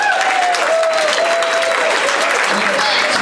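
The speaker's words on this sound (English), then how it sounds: "Applaud for these beautiful butterflies." Loud, continuous applause from an audience at a corporate hypnosis show, steady clapping throughout with a faint whistle-like tone and some crowd noise mixed in.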